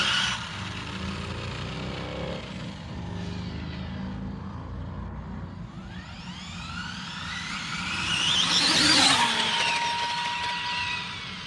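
An ARRMA Infraction RC car fitted with a Hobbywing Max6 motor does a speed run, its high electric whine and tire roar sweeping upward as it passes close by, loud and rising before fading.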